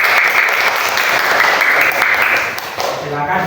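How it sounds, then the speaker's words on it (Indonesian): A class of students gives loud applause to a student group in a school lesson, a dense, close, vigorous burst of clapping that stays strong and then tapers slightly. "beri tepuk tangan yang sangat keras untuk kelompok 3"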